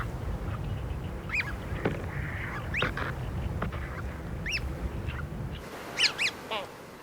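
Great crested grebes call by Paldang Lake: a few short, high, rising notes at intervals, each standing out against a steady, noisy outdoor background. A small cluster of calls comes near the end.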